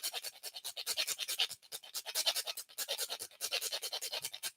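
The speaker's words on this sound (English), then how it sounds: "So with this, take a piece of that and you grind it down into your work." Rapid, rhythmic scraping and grinding of a spell ingredient being worked down by hand, a steady stroke pattern of bright, gritty pulses that continues alone throughout at close range.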